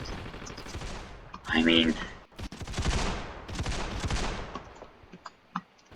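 Bursts of gunfire from the video game Ravenfield, sharp rapid shots, one dense volley and scattered single cracks, under someone talking over it throughout.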